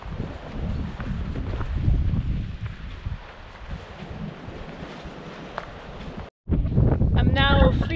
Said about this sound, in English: How strong the wind can be.